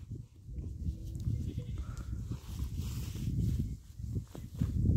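A herd of about 150 goats tended by guard dogs bleats repeatedly in overlapping calls, fairly faint and spread out, with hoof shuffling and rustling around them.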